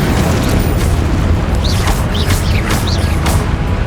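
Fiery Incendio spell blasts from the video game Hogwarts Legacy, a dense continuous roar of rumbling fire and booms with several quick bright whooshing bursts layered over a loud, steady combat din.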